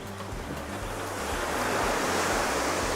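Ocean surf rolls in on Hawaii's North Shore, famous for massive waves, as a continuous loud roar that builds and wind buffets the microphone, without any voices.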